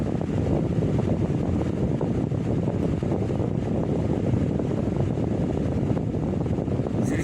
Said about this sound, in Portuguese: E agora o ventilador vai ajudar a baixar a temperatura lá